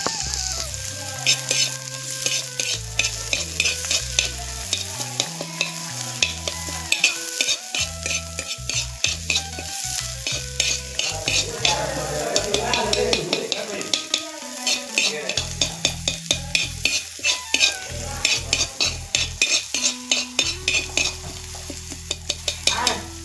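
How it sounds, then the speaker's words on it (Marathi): Onion fries in oil for a tribal-style vegetable dish while a utensil stirs and scrapes the pan in steady rhythmic strokes over a constant close sizzle, with a musical backing running throughout. "तेल झाल्यानंतर कांदा टाकून घ्यायचे."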